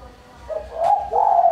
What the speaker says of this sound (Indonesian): Ini suara burung tekukur saya yang mersik.